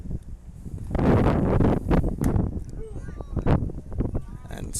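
Gusty wind roars steadily across the microphone at an outdoor high school baseball game on a windy morning, a broad rushing noise that swells and fades beneath a commentator's ongoing play-by-play talk.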